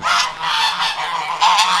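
A flock of farmyard geese honks repeatedly near a gate at evening feeding time, overlapping loud nasal calls in quick succession, close by.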